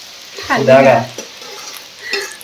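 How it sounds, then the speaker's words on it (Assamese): Oil sizzles and crackles close by as fish fries, with stirring and a brief utensil clatter. "মাছ ফ্ৰাই কৰি আছে এফালে"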